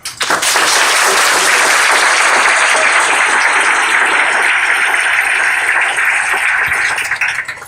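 An audience at a dairy milking-system grand opening bursts into loud, sustained applause welcoming a speaker, a dense wash of clapping that holds steady for several seconds before tapering off.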